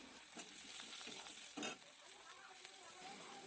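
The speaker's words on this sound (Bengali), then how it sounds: "বাদ বাকি তেলের ভিতরে দিয়ে দিচ্ছি আমি রসুন একটা লঙ্কা আর রাঁধুনি দিয়ে ভালো করে নাড়াচাড়া করে ভেজে" Garlic, chili and radhuni frying in oil, a faint steady sizzle with a few soft stirring scrapes, quiet and close.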